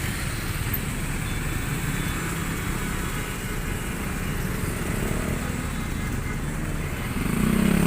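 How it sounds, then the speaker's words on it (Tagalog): Dense traffic crawls through Tanza, Cavite, where several motorcycle engines blend into a steady, close, buzzing drone, and one machine grows louder near the end. "Sa dami ng motor dito sa Cavite."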